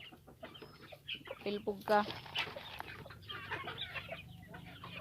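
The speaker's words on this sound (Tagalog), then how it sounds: "ito yung mga manok namin" Several chickens cluck and chatter close by, with a person speaking briefly among the busy flock sounds.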